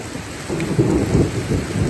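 Heavy rain pours down steadily, a dense, loud wash of drops with low rumbling underneath and no voices.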